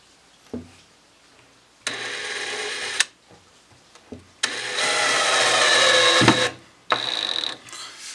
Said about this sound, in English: And then I will put the screw in here with the washer.